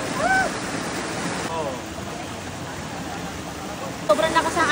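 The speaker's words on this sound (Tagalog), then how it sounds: "Sobrang lakas ang agos." A strong river current rushes in a steady, broad wash at an outdoor camp, close and continuous, while people talk and shout excitedly over the flowing water.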